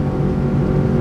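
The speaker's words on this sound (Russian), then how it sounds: "подвесной мотор Mercury F-150, винт стальной" Boat with a Mercury F-150 outboard motor and steel propeller running at maximum revs, around 5500–5600 rpm at nearly 77 km/h: a steady, loud, close engine drone that holds constant throughout with no pause.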